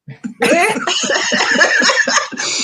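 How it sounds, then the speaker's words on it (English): A prolonged, loud coughing fit, rough and continuous with choppy bursts, close to the microphone and mixed with laugh-like breathy sounds. "this coughing spell started again"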